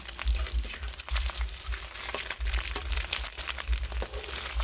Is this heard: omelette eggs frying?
yes